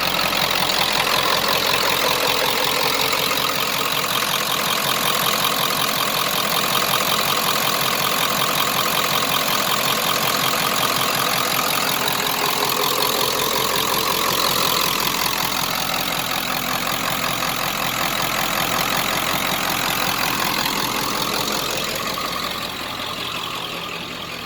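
A 1995 Ford F250 with a 7.3 Powerstroke diesel idling steadily, a constant rough, clattering drone with even low rumble for the whole stretch, no voices over it.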